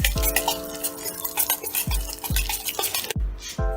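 Condensed milk is mixed in a bowl for an eggless mango cake, with repeated close clinks of a spoon against the bowl and a wet swishing stir between them.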